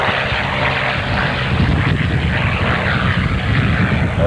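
An RC Hellcat model warplane with a royal blue paint scheme and retracted landing gear makes a low photo pass at an airshow, its propeller engine roaring loud and steady throughout.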